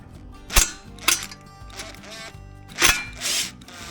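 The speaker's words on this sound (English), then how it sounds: "I've got this attached to my drill" A drill whirs in short bursts driving a long screw during Husqvarna 592XP chainsaw maintenance, with sharp mechanical clicks and rattles between spurts, close by and fairly loud.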